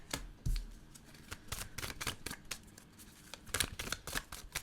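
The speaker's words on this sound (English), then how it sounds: "just shuffle and let the cards fall out of the deck as needed." A tarot card deck being shuffled by hand, with soft, quick riffles and papery flicks in uneven bursts, close and quiet, no talking.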